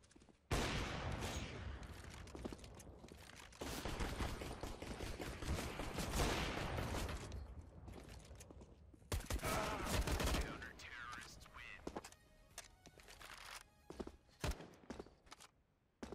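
Rapid gunfire in a Counter-Strike: Global Offensive shootout, with dense bursts of shots through most of the stretch, a heavy flurry around ten seconds, then sparser scattered shots and footsteps toward the end, fairly quiet overall.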